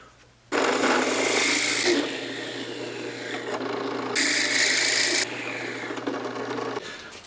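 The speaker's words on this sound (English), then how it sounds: "now I can continue drilling the hole" A drill press bores a hole in two pieces of wood clamped together, giving a loud, steady grinding whir with two harsher bursts as the bit bites deeper, then winding down.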